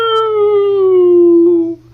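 A human voice imitates a wind dragon's howl with one long, loud, wavering tone that slowly falls in pitch for nearly two seconds before cutting off.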